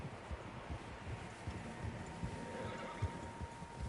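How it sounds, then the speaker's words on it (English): Horses in the video game Red Dead Redemption, a steady clip-clop of hooves at a walking rhythm with wind and rustling around them, faint and somewhat distant. "Horses, quite a few of them."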